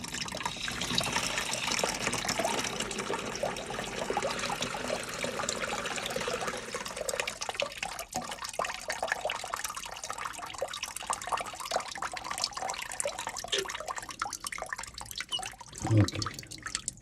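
Water gushes from an opened valve at a camp during winterizing, a steady rushing flow that gradually eases into lighter trickling and dripping.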